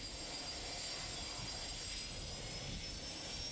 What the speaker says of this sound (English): Let's take a look at a typical departure on a multi-engine aircraft.